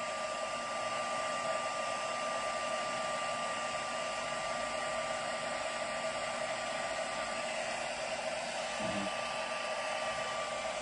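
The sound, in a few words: heat tool setting stamped embossing on a card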